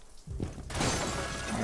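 Glass shattering in the Rainbow Six Siege video game: a sudden loud crash of breaking glass after a short quieter lead-in, followed by a sustained bright spray of falling shards.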